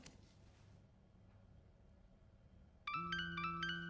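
A phone ringing in the video game Tell Me Why: a bright electronic ringtone melody starts suddenly after a quiet, low ambient stretch and repeats its short pattern clearly.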